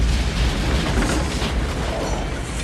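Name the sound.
bomb explosion in the film Village of the Damned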